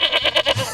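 A goat bleats in a short, loud, wavering call with a quick pulsing tremolo, close and alone.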